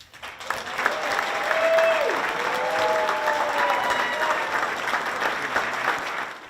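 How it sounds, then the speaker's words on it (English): Sustained applause from a large audience gives a standing ovation honoring police officer Dave's 50 years of service, steady and full throughout, with a faint voice briefly over the clapping. "he received a standing ovation"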